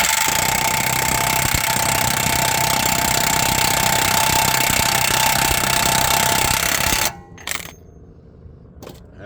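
Impact wrench hammering on a nut of a 2017 Cadillac XT5 during front-end repair, a loud continuous rattling burst that runs for about seven seconds, then stops abruptly, followed by a couple of brief clanks.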